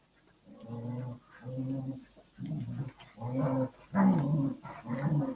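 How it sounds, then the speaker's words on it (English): Puppies indoors give a series of drawn-out growling, roaring vocalizations, each lasting about a second with short gaps, close and fairly loud. "Puppies, will you stop it?"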